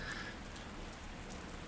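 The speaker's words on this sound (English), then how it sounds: "Right now it's just raining." Rain falls steadily in a video game town, producing a soft, constant hiss of drops with no other sounds and no voices.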